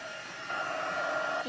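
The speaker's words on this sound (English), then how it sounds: "And we just need our heat tool." A craft heat tool blows a steady, whirring hiss while warming embossing material, close and continuous, its pitch rising briefly as it ramps up.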